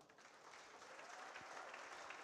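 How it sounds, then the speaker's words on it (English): Audience applause at a BSA centenary book launch, a steady wash of many hands clapping throughout, moderately distant and fairly quiet, with no talk over it. "let's have another big round of applause for Rob Caskey"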